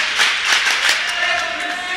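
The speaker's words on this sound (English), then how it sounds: "Shepard and Kashner getting a round of applause from the home fans here in Watertown" Home fans clap for two seniors at a college men's basketball game in Watertown, a steady wash of applause filling the gym at close range for the full two seconds.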